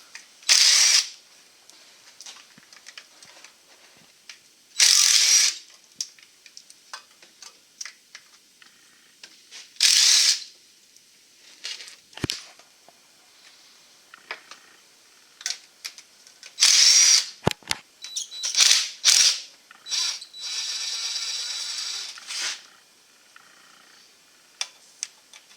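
Tools work on a 2001 GMC pickup to remove the transmission pan: short bursts of a power tool or ratchet whir repeatedly, separated by quiet gaps and scattered light clicks and clanks.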